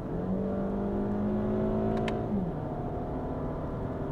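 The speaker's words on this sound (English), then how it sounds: "Let's do one more pull uphill and see how the transmission does it." A Toyota Camry sedan with an automatic transmission accelerates uphill, its engine note climbing steadily, then dropping and settling as the gearbox shifts, heard from inside the car with no talking.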